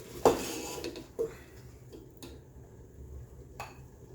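Spoons clatter against a bowl as collard greens with neckbones are served, a sharp clink near the start followed by a few softer scrapes and taps over a low background hum.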